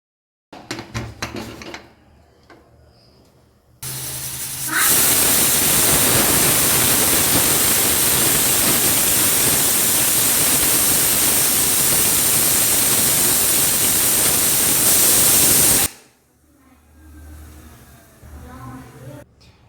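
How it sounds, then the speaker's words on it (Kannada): A pressure cooker full of chickpeas lets off its whistle in a long, loud, steady hiss of steam lasting about twelve seconds, with a voice and kitchen clatter briefly before and after. "ಇವಾಗ ವಿಷಲ್ ಬಂದಿದೆ."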